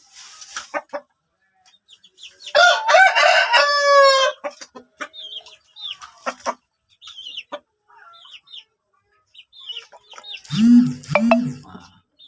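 A sick chicken suffering from a snoring respiratory disease clucks and gives a short crow-like call, with brief wet rattling sounds scattered through long quiet gaps and a couple of louder hoarse squawks near the end.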